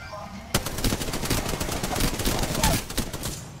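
Rapid automatic gunfire in Apex Legends erupts after a short quiet lead-in, dense bursts of shots rattling continuously at close range and loud.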